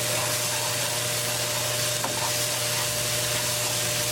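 Tadka of tempering spices fries in a pan for a beef meatball curry, giving a steady, moderate sizzle and hiss with a faint hum beneath and one brief clink near the middle.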